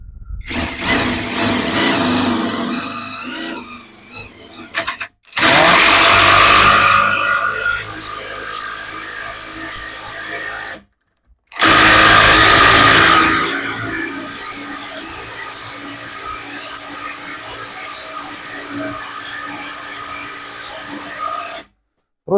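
Grosser GID 230N cordless impact wrench running at its fourth speed setting, giving two long loud bursts of rattling, rasping whir with a short gap between them, close by and with no talk.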